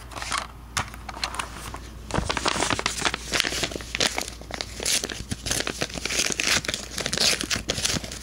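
A mail package of sports cards being unfolded and handled up close, loud continuous crinkling and crackling of paper and plastic wrapping with occasional tearing, no talking.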